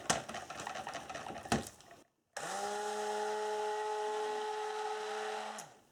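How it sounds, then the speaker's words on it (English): After some clattering and handling, a stick blender starts up and whirs at a steady pitch for about three seconds while mixing madder-infused soap batter, then winds down; no one talks. "let's get the stick blender in and you can see if you agree with me"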